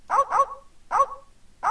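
Cartoonish dogs bark in The Secret of Monkey Island, the piranha poodles of the adventure game: three bursts of barking, each a quick double bark, separated by short pauses, close and clear with no talk.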